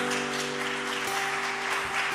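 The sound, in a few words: congregation applause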